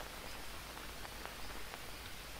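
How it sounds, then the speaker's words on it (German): Light rain in the jungle of Green Hell, a faint, even hiss of drops pattering on surfaces with no speech over it. "Ja, so ein bisschen hatte es noch geregnet."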